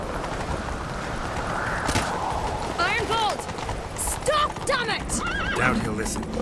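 Galloping hooves clip-clop rapidly while a horse neighs and whinnies several times over a noisy background in the video game The Witcher 3: Wild Hunt.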